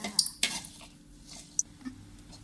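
Chili, garlic and shallots being stir-fried in a pan, with a few sharp scrapes and clinks of a utensil against metal over a faint sizzle, close and brief.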